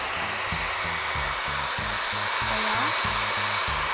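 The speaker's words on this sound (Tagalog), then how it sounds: "Ilagay sa pinakamainit na setting itong dryer natin, ang blower natin." A hair dryer on its hottest setting blows steadily onto wet wipes, a loud continuous whooshing roar with a motor hum throughout, as a voice speaks briefly over it.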